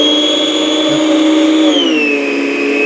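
A vacuum cleaner runs at power setting 2, its steady, loud motor whine holding close and constant with a slight pitch dip partway through, with no talking.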